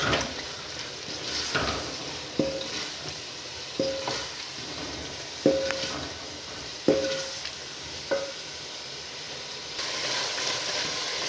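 Spiced masala with potatoes fries in a pan for Punjabi kadhi pakora, a steady close sizzle broken by regular scrapes and clinks of a spoon stirring against the pan, with no talking.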